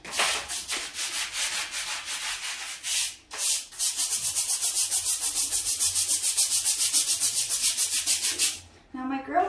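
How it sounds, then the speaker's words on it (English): A small brush scrubbing bathroom tile grout in fast, even back-and-forth strokes, loud and close, with a short pause partway through and a brief knock near the end. "I'm just gonna grab the little brush and start scrubbing"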